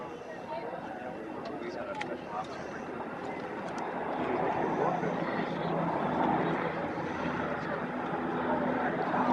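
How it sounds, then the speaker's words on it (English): At an airshow, a Combat Talon aircraft flies low with its nose yokes extended for a Fulton recovery pickup. Its broad engine and propeller roar swells and grows louder, with voices talking underneath. "the Combat Talon aircraft attempting a Fulton recovery pickup."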